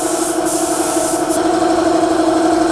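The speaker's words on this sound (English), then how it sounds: "There you go, spray painting." Spray gun applying lacquer to the outer surface of cabinet doors, a loud continuous hiss with a steady droning tone underneath, close by and unbroken throughout.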